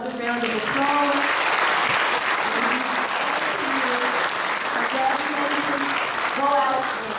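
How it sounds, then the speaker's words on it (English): Sustained audience applause fills a hall at a 2019 senior awards ceremony, a loud even wash of clapping with voices calling and cheering over it throughout. "Let's give them all another round of applause."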